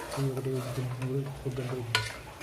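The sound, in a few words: stirring mutton with chili powder and mutton masala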